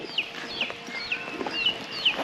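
Turkeys on a farm give a series of about five short, high, chirping calls at a steady pace, close and fairly loud, with no talking.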